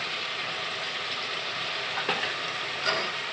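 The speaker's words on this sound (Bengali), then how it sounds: "পেঁয়াজ কুচির সাথে এখন আমি গরম মশলাগুলোকেও ভেজে নিব।" Chopped onion, garam masala, bay leaves, cardamom, cinnamon and black pepper frying in oil in a pan for a beef curry, a steady close sizzle with a few soft stirring clicks and no talk.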